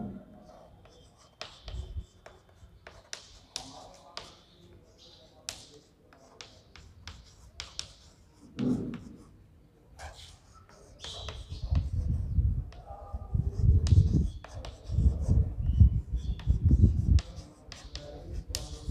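Pen scratching on paper while a letter is handwritten, with short strokes and taps coming and going under a teacher's steady talking.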